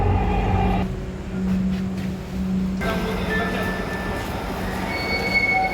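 Dhaka metro rail train running, a steady loud rumble of wheels on track with high squealing and whining tones and no voices.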